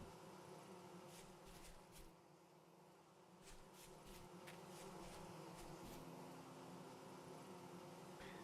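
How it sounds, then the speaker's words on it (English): Bees buzz faintly and far off in the Vintage Story video game, a soft, steady drone with brief louder buzzes over low ambient background. "I hear bees."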